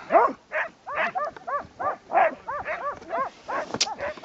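Sled dogs on Svalbard bark in quick, excited yelps and barks, a steady run of close calls from several dogs with no talk over them.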